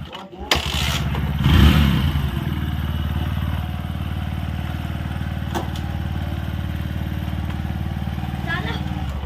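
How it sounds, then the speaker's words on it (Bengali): A motorcycle starts and revs in a village setting, then holds a steady close engine drone as it moves off, with talk over it. "আর এই যে বাইক নিয়ে যাচ্ছে এখন।"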